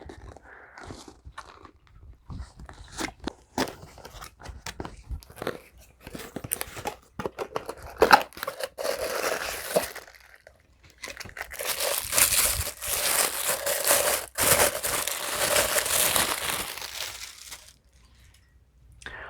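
Packaging around a pint glass with a cat-paw flower design is crinkled, torn and crushed open in close, busy bursts of rustling and ripping, with a short pause midway and no talking.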